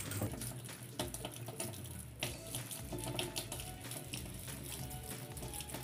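Tap water running over hands and arms during a surgical-style scrub, a continuous close splashing stream with scrubbing rustles, no talk.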